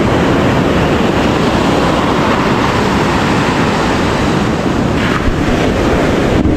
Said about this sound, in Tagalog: kaya siguro malakas yung alon ngayon dito